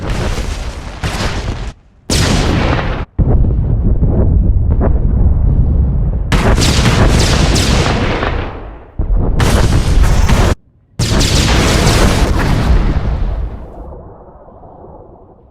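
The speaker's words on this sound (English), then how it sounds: "All squads, open fire!" Heavy gunfire and explosions erupt as squads open fire in a Star Wars video game battle on Tatooine, loud sustained bursts broken by a few abrupt silent gaps before the barrage fades out at the end.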